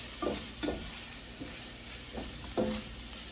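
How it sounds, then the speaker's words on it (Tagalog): Sirloin steak being stirred with onions and garlic in a hot pan, with a steady sizzle broken by several distinct scraping stirs, close and fairly quiet, no talking. "We have to mix it together with the onions and garlic."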